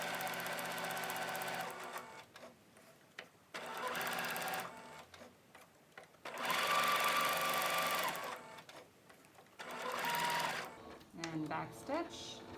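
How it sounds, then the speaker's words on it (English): A sewing machine stitches through card stock to make a gift tag, running in several steady whirring bursts separated by short pauses, close and loud. Talking is heard between and over the runs. "All right, we're going to put it under the machine."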